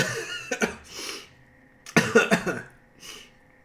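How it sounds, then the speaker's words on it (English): A series of harsh coughs, close and loud: a couple of quick bursts, a pause, then a longer cluster of hacking coughs with a softer one after. "Oh no, I'm coughing."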